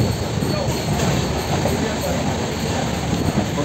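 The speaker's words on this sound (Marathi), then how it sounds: "फायनली आपली ट्रेन आलेली आहे मंडळी" Train pulling into a station, a loud close steady rumble of wheels and carriages with faint squeal, with voices of the platform crowd mixed in.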